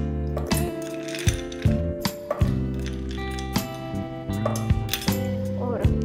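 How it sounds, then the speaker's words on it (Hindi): Ice cubes clink and rattle as they drop into a container of orange juice being prepared in a kitchen, a series of sharp, bright knocks over a steady background hum. "लास्ट में डालेंगे थोड़े से आइस क्यूब।"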